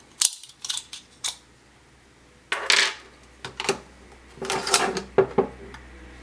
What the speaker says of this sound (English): Quickly load a few rounds into it.